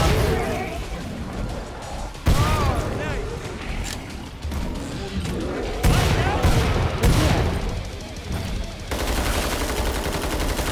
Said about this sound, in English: he did blow me up with a sticky bomb